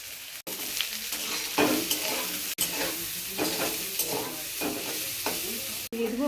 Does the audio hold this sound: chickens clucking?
no